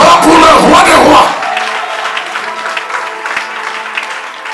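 A church congregation cheers and applauds for Jesus at a Christian youth conference. A loud burst of clapping and shouting runs for about a second, then drops to a quieter murmur of voices and room noise.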